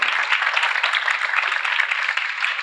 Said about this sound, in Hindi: अपने लिए तालियां बजाओ मैं भी बजाना